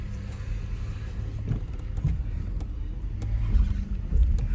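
A white Volkswagen Golf 3 VR6 with 130,000 km on a test drive, a steady low engine drone and road rumble from inside the cabin, swelling slightly toward the end.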